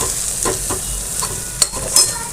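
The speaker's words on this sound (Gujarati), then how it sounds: "આ બાજુ દાળ વઘારી" Dal tempering in hot oil in a Gujarati home kitchen, a steady sizzle underneath with a couple of sharp spits and stirring clatters, close and moderately loud, no talking.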